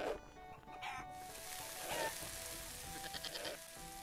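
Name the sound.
goats bleating in video game Cora the Blade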